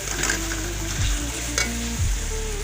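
Masala fries in a pan with a constant loud sizzle while a spoon scrapes and stirs in repeated strokes, and a low hum sits underneath.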